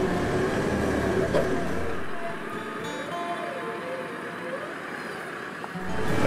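A 4x4 grinds uphill in first gear, low range, while its winch pulls at the same time. A steady engine drone rises and falls, then thins out before building again.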